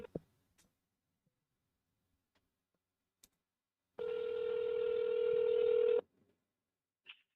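Telephone tones as a call is forwarded: a steady electronic tone of about two seconds sounds alone after a few faint clicks in near silence, then a short blip follows.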